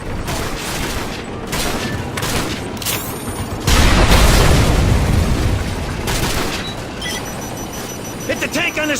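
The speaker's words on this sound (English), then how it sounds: "The air corridor is clear for our A-10s to commence gun runs." Gunfire bursts and heavy explosions from A-10 gun runs on tanks in a Modern Warfare war game, a loud roaring blast in the middle among repeated crackling volleys, with radio chatter over the din.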